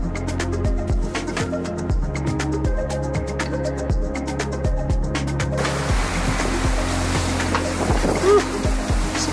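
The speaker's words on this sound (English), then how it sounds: "Some big waves." Big ocean waves rush and break around a sailboat in a gale, a loud sea roar and spray that swells in the second half over a steady, droning hum from the boat.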